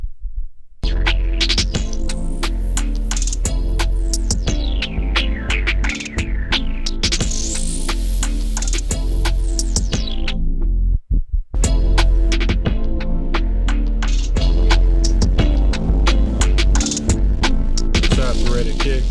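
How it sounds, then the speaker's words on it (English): A saturated, heavily distorted kick drum from the Halloween preset on an Akai MPC pounds in a dense, loud beat, repeating steadily under a sweeping distorted texture, with a brief dropout midway before the pattern returns. "Saturated kick, and a lot of distortion."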